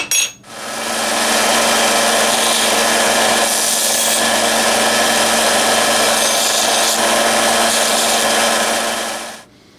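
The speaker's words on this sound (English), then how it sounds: "So let's take these over to the sander and clean up these edges." A power sander grinds the rough edges of small cut aluminum pieces for a model engineer wagon, running as a steady, loud, continuous abrasive whir for nearly ten seconds before cutting off.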